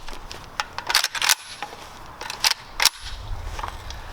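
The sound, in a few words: AK rifle magazine being rocked in and reloaded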